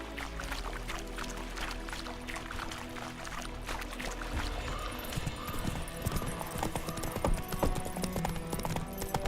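Horse hooves clip-clopping steadily in The Witcher fantasy game, a close, rhythmic clatter of hoofbeats that continues through the stretch alongside ambient game sound.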